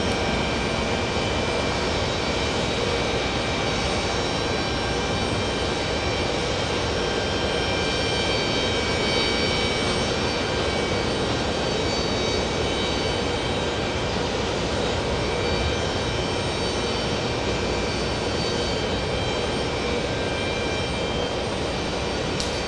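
A British Airways Boeing 777 jet departs JFK bound for Heathrow, a steady, loud, broadband engine roar with faint high whine that holds unbroken throughout.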